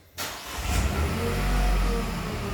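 A Renault Clio 4's engine starts with a brief starter crank, then settles into a close, steady idle hum that swells slightly before holding even.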